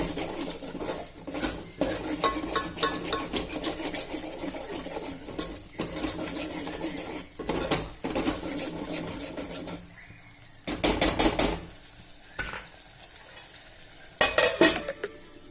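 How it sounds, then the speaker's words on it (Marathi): Spiced masala paste for mutton curry frying and being turned in hot oil, with a steady sizzle, repeated scraping and stirring clatter of a spoon against the pan, and a couple of sharper metallic knocks near the end. "आता तेल सुटेपर्यंत चांगला मसाला परतायचा"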